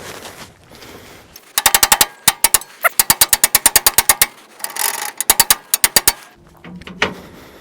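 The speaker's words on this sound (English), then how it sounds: "let's finish this off with a larger hammer" Rapid series of sharp metallic blows from a large hammer on the rear axle U-bolts under a GM truck, loud and close, coming in quick bursts with short pauses between runs of strikes.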